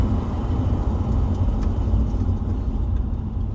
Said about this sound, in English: it just stalled again on me